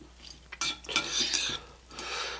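Vegetables and crumbled bacon mixed together in a bowl for a frittata, with several close scraping, clinking stirs of a utensil against the bowl in uneven bursts.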